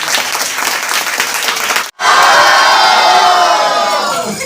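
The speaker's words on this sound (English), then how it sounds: "Clap for him again" Crowd applause with cheering and shouts at an award ceremony at an English institute in Khanpur, New Delhi, loud and dense, cutting off briefly before resuming even fuller with clapping and whoops.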